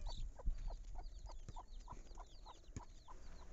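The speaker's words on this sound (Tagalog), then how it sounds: "May manok pa, oh." A hen clucks in soft, evenly spaced calls while her chicks peep in high, thin chirps, all faint and somewhat distant in a vegetable garden plot.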